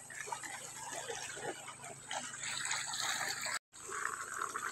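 Water gushing into a farm irrigation reservoir, a steady splashing flow heard outdoors at moderate level, briefly cut out for a moment near the end, with faint background voices.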